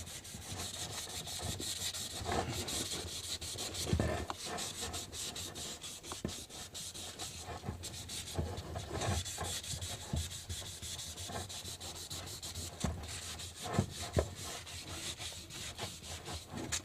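Steady, close-up scratchy rubbing of fine sandpaper on a fishing pole being repaired, with continuous back-and-forth strokes and a few sharper scrapes. No voices.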